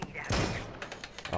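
A quick volley of video game gunfire, a couple of sharp close bursts in just over a second, with a voice talking over it.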